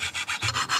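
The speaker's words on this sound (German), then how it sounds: "So ein bisschen lang schleifen und schon ist das richtig scharf." A woodworking tool blade is rubbed back and forth on a sharpening stone, quick rhythmic scraping strokes, about six in under a second, close and clear with no talk.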